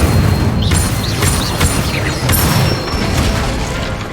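Incendio fire spell cast in a Harry Potter video game, a loud whooshing burst with popping, crackling bangs and bright magical chimes, several spell casts in quick succession.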